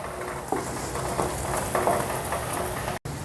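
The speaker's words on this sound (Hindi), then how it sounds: "अच्छा सा फ्राई करें और अच्छा सा कलर आने तक इसको फ्राई करें।" Bread slices for shahi tukray fry in oil over a low flame, giving a dense, continuous sizzle with faint stirring clinks. It is close and steady, with a brief gap near the end.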